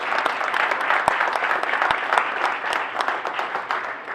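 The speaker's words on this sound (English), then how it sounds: "Let's give these great elected officials a round of applause." At a Buffalo press conference with Dana White and the mayor, the crowd gives elected officials a round of applause: steady, full clapping with occasional sharp claps, sustained without speech.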